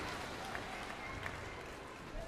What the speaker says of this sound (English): The screams from the Chinese crowd whenever Lin winds up for a big smash